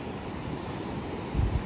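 Ocean surf washes onto a beach on a cold autumn day in Japan, a soft steady rush with wind noise and a brief louder low thump near the end.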